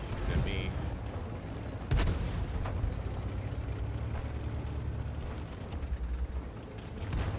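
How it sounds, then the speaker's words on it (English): Gunfire and booming shots rumble through a tank battle video game, a steady low roar of distant cannon fire and explosions with a sharper crack near the two-second mark, while a player talks over it. "Somebody's shooting at me."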